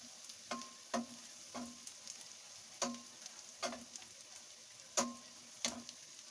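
Garlic sautéing in oil in a pan, a faint steady sizzle broken by distinct ticking stirs from a utensil at irregular intervals, with no one talking.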